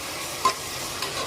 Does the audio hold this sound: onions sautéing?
yes